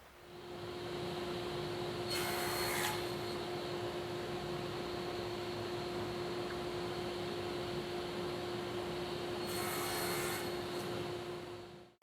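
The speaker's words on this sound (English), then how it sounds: "with my miter gauge, I can then cut each of these across" A table saw with a miter gauge crosscuts wooden dining chair parts to length. A steady, quiet motor hum runs throughout, and two short bursts of cutting noise come early and near the end.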